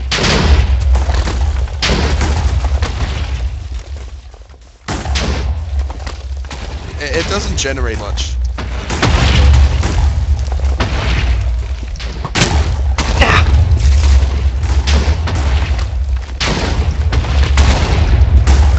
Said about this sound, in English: Make explosion happen in water.